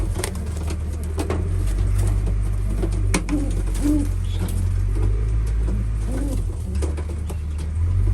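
Racing pigeons, including an older cock bird, coo softly and repeatedly over a steady low rumble of road traffic in the background.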